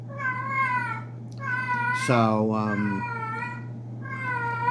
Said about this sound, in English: Oh, this cat.